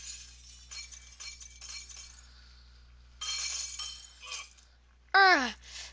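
Glass breaking in the Happy Wheels video game: bright, tinkling shatters and clinks come in a few bursts over a low hum, with a short shout near the end.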